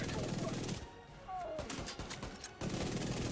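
Rapid bursts of automatic gunfire from The Division 2 on PS5, loud and close, come in clustered volleys with short gaps between them. A player's voice is heard over the shooting.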